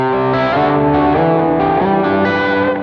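A Jet Pedals Revelation ambient reverb pedal set to 100 ms pre-delay processes a sustained, distorted chord that shifts pitch a few times, with lush washes of reverb and a steady, loud level and no voices.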